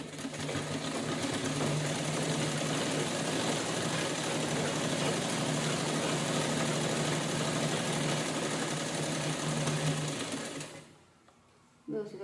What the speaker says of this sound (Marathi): आता खालच्या साईडला पण आपण दोन्ही व्यवस्थित कपडे जुळवून धरायचे आणि शिलाई करून घ्यायची